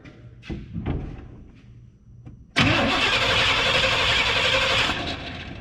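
An abandoned Chevrolet K5 Blazer's engine cranks, catches, then runs loudly at a steady idle after a few thumps and a short lull, close and alone.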